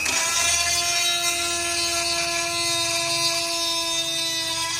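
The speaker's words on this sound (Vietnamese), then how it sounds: "bây giờ mình sẽ khoan xong" A power drill bores into a Ferrari engine cover part, holding a steady high whine with a constant tone throughout and no voices.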